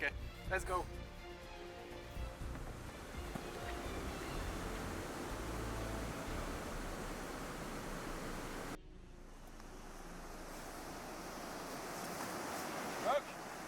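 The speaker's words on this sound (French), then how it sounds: "voici la rivière" Steady broadband rush of a river flowing outdoors, continuous and fairly loud with wind buffeting the microphone and a brief voice early on; the tone shifts partway through.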